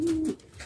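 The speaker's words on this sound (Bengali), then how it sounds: "পাশেই দেখতে পাচ্ছেন এক জোড়া রেসার কবুতর" A racer pigeon gives a single short, low coo up close, with soft background noise and no other sound.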